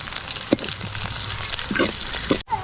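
Onions, curry leaves and ginger-garlic paste fry in hot oil with a steady, close sizzle, broken by a few sharp stirring clinks and scrapes, with no voices.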